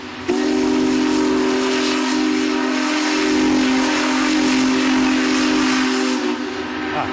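A historic steam train sounds its whistle while rolling through downtown Cleveland: one long, loud, steady shriek held for about six seconds over hissing steam and rail noise, with no talking.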